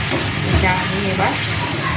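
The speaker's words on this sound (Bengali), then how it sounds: "এইভাবে এটা আমি ভাজতে থাকবো" Pumpkin stems fry in a pan with a steady, close sizzle and hiss. A voice can be heard faintly at times.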